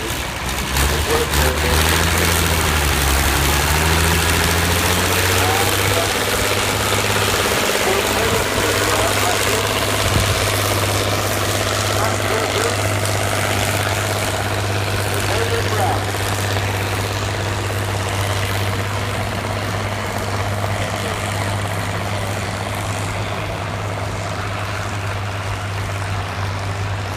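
A David Brown 1210 tractor with a non-original, naturally aspirated engine and specially rebuilt transmission idles steadily, a loud low throbbing drone held for nearly half a minute with little change.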